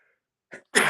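A single short, sharp burst of breath after a brief quieter intake, sounding like a sneeze close by.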